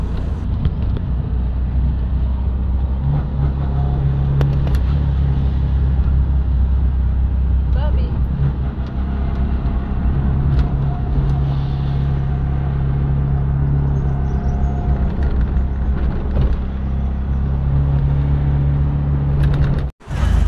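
Auto rickshaw on the road, a continuous low engine drone with road rumble and wind buffeting the microphone, steady and fairly loud throughout with faint voices underneath.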